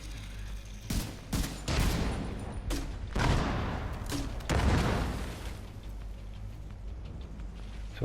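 Video game weapons fire in loud, close bursts, including what could be an assault rifle, with sharp shots clustered into rapid volleys and booming impacts before things quiet down.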